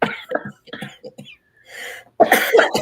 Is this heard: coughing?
yes